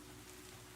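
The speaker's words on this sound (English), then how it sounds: "Ambient rain. Got it. I hear it. It sounds nice." Faint, steady nighttime rain patters outside an open window, a soft continuous hiss with no distinct drops standing out and no voices.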